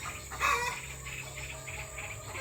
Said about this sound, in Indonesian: Ternakan yang khusus yang lakukan ini adalah ternak ayam petelur ya